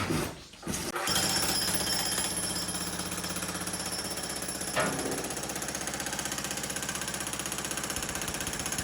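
A jackhammer pounds concrete during barn demolition, a loud, rapid, continuous hammering close by after a short pause at the start, with a faint engine hum beneath.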